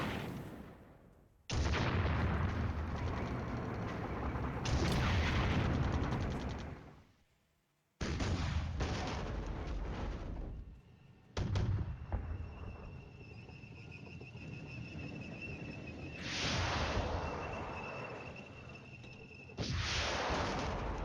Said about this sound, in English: that's all anti-tank guided missiles there, destroying multiple tanks with the ATGMs